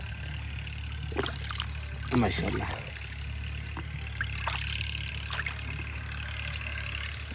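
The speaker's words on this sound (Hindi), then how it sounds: "बेहतरीन पानी गुजर रहा है।" Water flows through an irrigation pipe into a wheat field as a steady, continuous rushing and trickling over a low mechanical hum, with someone speaking briefly over it.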